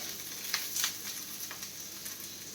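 Sliced onion fries and burns in oil on an iron dosa tawa during seasoning, giving a faint, steady sizzle with a few soft crackles and stirring scrapes.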